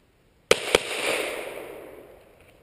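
Two sharp Glock 17 pistol gunshots crack in quick succession outdoors, each loud and close, followed by a long fading echo rolling off into quiet.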